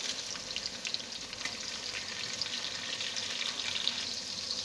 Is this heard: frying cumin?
yes